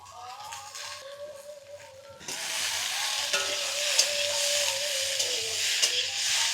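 Drumstick pieces and potatoes are stirred in a hot pan. A quieter hiss with faint clinks swells suddenly into a loud, steady, close sizzle with bursts of steam.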